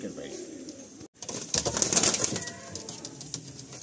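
Andhra Fulsira pigeons cooing in a loft, soft low coos mixed with rustling and general bird activity at moderate distance, with no words spoken.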